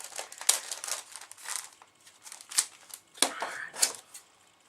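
A tightly sealed mail package is pulled open by hand, with irregular bursts of crinkling and tearing paper or plastic, some sharper rips among softer rustles, close to the microphone.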